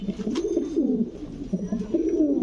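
Imported fancy pigeons at a farm coo in soft, repeated rolling calls, close and clear, with their low burbling phrases running one after another.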